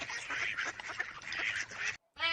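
Duck quacking sound effect: a rapid, loud run of raspy quacks repeated steadily, then a brief silence and one more short call starting at the end, with no voices.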